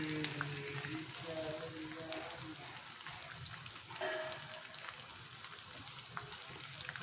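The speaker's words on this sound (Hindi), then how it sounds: "अब इसमें हम डालकर इसे बिल्कुल स्लो गैस पे फ्राई कर लेंगे" Edible gum (gond) fries on a low flame, giving a soft, continuous crackling sizzle with small pops, quiet and close, while a voice talks in the background.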